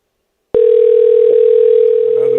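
A single steady telephone tone starts abruptly and holds loud and unbroken for about two seconds on a radio show's call-in phone line. A faint voice enters near the end.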